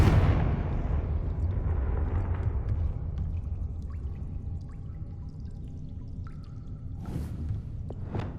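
A Confringo fire spell explodes in Hogwarts Legacy, a loud close blast with a deep rumbling roar that slowly decays, followed by faint crackles and a second softer burst near the end.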